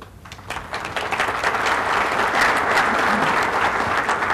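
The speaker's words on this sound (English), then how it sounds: "Was that applause for you, Jan?" Audience applause at a State of the County address, steady and dense clapping that swells after the first half-second and holds loud and full to the end, with no talk over it.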